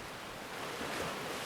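Lagoon water ripples and laps under a morning breeze, giving a soft, steady wash of surf-like noise that swells slightly toward the middle, with no voices.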